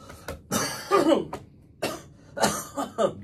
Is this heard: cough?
yes